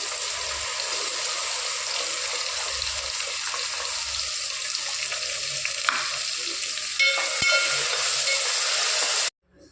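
Shallots and tomato paste fry in a pan for a tamarind brinjal curry, giving a steady loud sizzle and hiss that swells a little near the end, with a sharp scrape partway and a sudden cut-off.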